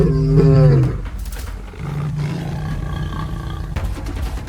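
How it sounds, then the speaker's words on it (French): In a wild savanna, a lion gives a single deep, powerful roar at the start, then it cuts off into a low rumbling background and some scattered noise. "Le rugissement déchira l'air."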